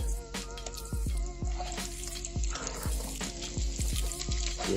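Onions hit hot seasoning oil for braised oxtails and squash, giving a steady sizzle with repeated sharp clinks and taps of utensils against the pan throughout.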